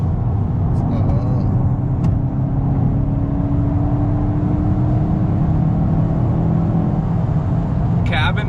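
Interior cabin noise of a Volkswagen GTI on the road: a loud, continuous low rumble of engine and tyres with a faint rising whine, a few brief clicks and rattles, and no talking.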